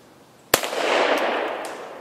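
A single sharp shot from an 1895 Nagant revolver fired at a target outdoors, a loud crack followed by a long, rolling echo that fades slowly.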